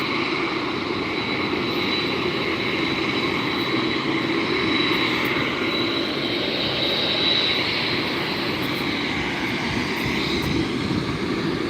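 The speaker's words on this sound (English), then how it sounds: "This is like a military plane. This thing is enormous." A large military airplane passes at Los Angeles International Airport, a steady, loud broadband engine roar sustained throughout with constant rumble and no speech.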